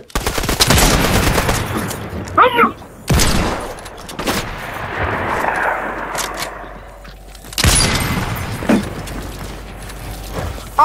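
Gunfire in the video game Fortnite, several sharp loud bursts and rattling shots spread across about eleven seconds, separated by quieter mechanical clicks and background game noise.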